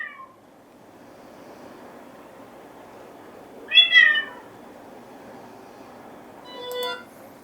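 An AI-generated cat meows twice: a clear meow near the middle, then a second, shorter meow toward the end, with faint low background hiss in between.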